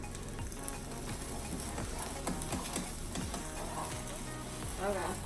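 Eggs for chipsi mayai sizzle steadily in a hot pan, with continuous close frying crackle and occasional scraping knocks from a utensil.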